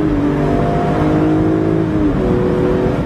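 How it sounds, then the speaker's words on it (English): BMW M3 Convertible engine revving under load, a loud steady drone whose pitch climbs and then drops as it shifts, heard from inside the car with no talking. "it'll still downshift like any other sports car without having to touch it"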